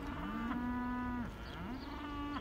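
Feedlot cattle waiting for breakfast give two drawn-out moos in succession, close and clear, with other animals faintly lowing behind them.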